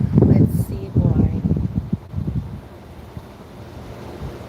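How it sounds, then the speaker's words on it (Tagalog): Gusty wind buffets an outdoor microphone in loud low rumbling bursts, strongest at the start and easing off toward the end, with a voice speaking faintly under the noise. "Mahangin."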